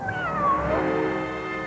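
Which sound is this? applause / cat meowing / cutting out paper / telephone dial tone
cat meowing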